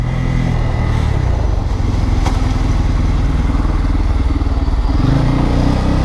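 A Bajaj Pulsar N250 motorcycle accelerating, its engine a loud, steady, close-up drone that holds strong throughout, rising in pitch as the throttle opens near the end.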